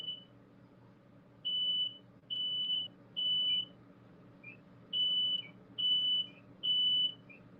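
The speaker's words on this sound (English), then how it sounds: "now it's setting off my smoke alarm" A smoke alarm, set off by olive oil spray fumes from cooking, sounds in repeated high-pitched beeps, seven bursts in two groups, loud over a low steady hum.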